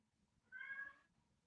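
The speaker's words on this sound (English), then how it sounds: "Is that a cat in the background, Sean?" A cat meows once in the background, a single short, faint mew of under half a second against a quiet room.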